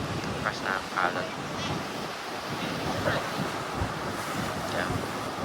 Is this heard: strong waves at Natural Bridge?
yes